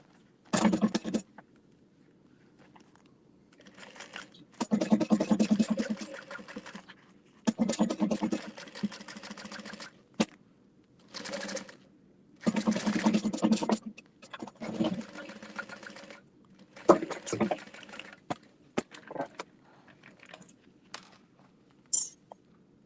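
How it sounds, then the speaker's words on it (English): A sewing machine top stitches a fabric beauty bag in repeated bursts of rapid whirring, pausing briefly between runs, with faint talk in the gaps. "top stitch it flat all the way across"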